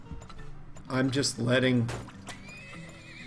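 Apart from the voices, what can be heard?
horses with wagons moving, Turmoil video game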